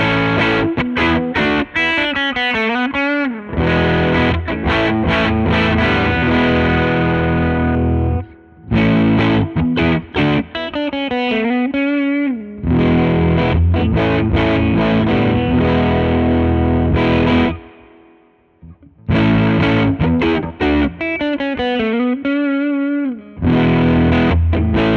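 Telecaster electric guitar played through a distortion pedal, loud crunchy chords and riffs in bursts with short pauses between phrases.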